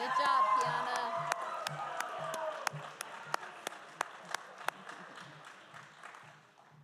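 Applause for a graduate at an adult high school graduation ceremony: an opening swell of crowd noise and voices gives way to a string of sharp, evenly spaced claps that fade out.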